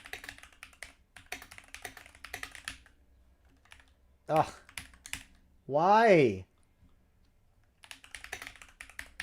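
Clattery bursts of typing on a computer keyboard come and go, close and fairly quiet, broken by a loud vocal groan and a short spoken question in the middle.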